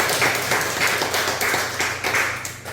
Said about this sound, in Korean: 우리 축하의 박수 한번 부탁드리겠습니다.